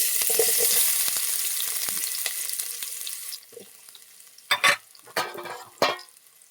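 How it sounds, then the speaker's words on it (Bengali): Onions and bay leaves fry in a pan with a close, hissing sizzle that slowly fades, then several sharp bursts of stirring and scraping. "পেঁয়াজটাকে বাদামি কালার করে নেবো হালকা"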